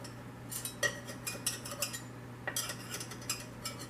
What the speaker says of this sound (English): Run a knife around to make sure they're not going to stick to the pan